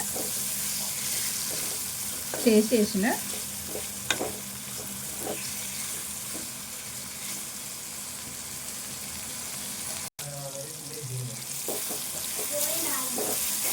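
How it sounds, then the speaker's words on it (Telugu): Chopped tomato fries with chicken in a pan, a constant close sizzle broken by spoon stirring and scraping, with a short spoken remark partway through. "టమాటా కూడా మెత్తగా ఫ్రై కావాలి."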